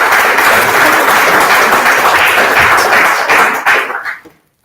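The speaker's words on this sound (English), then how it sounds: "So I think you should just give yourself a round of applause for" An audience at a CPD event on managing cardiac arrest breaks into dense, loud applause close by, steady for about four seconds before quickly dying away.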